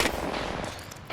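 Gunfire in the video game Apex Legends, a rapid burst of shots right at the start followed by a fading rattling tail, with no talk.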